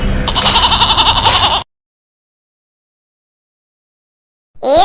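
Cartoon goats bleat in a loud, wavering burst in a spooky animated scene, then silence, and a brief sharp sound comes at the end.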